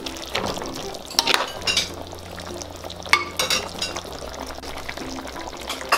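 Potatoes and carrots are stirred in a cooking pot, giving a steady scraping, clattering mix over soft simmering, with sharper spoon knocks now and then and no talk.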